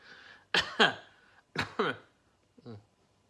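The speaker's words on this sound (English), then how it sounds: "Coughed into my tea" Several sharp coughs in close succession, two quick pairs followed by a weaker single cough, up close in a quiet room.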